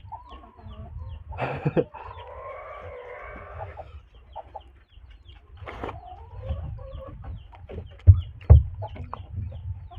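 A chicken clucks in short scattered bursts close by, alongside a drawn-out call, with quiet gaps and a couple of soft knocks.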